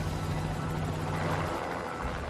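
A helicopter flies over a barren pumice plain, its engine and rotor making a loud, steady, close rumble and whir that holds throughout with no talk.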